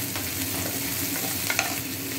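Garlic frying in oil in a home kitchen pan for a broccoli and potato curry, a steady soft sizzle with a couple of light stirring clicks near the end, no talking.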